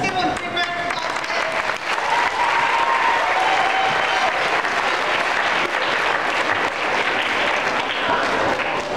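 Audience at a school PTA Reflections award ceremony gives a long, even round of applause, many hands clapping steadily and fairly loud, with a faint voice briefly heard over it.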